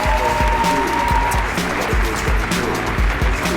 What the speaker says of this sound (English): Give a big Summit 2015 round of applause to our co-founders and co-CEOs, Scott Farquhar and Mike Cannon-Brookes.